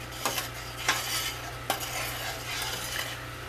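A spoon stirs rhubarb simmering at a low boil in a pot, giving a few scraping clinks against the metal over a steady bubbling hiss, with no talking.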